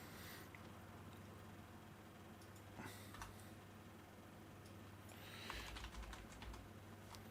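Faint computer keyboard typing, scattered clusters of quick key clicks over a constant low hum and hiss, with a denser burst of taps near the end.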